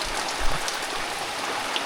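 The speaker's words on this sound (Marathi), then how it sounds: "पाऊस बघा केवढा आला आहे" Heavy monsoon rain falls over a village, a thick continuous wash of pattering drops with a few soft low thumps, close and loud with no voices.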